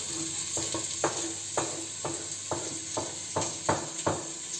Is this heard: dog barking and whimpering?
no